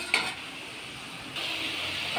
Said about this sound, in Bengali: এই যে ঝোল ফুটছে